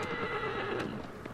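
A horse whinnies in Shadow of the Colossus, a single loud, close neigh over a steady game ambience, with faint hoof clip-clops mixed in.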